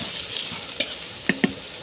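Onion and chili fry in a pan for a fish bhuna while being stirred. Soft sizzle, with a few sharp scrapes and taps from the spoon near the end.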